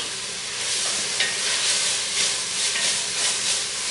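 Onions sizzling and hissing in a hot pan while being stirred, a steady bright fry with faint scraping swells, close and continuous.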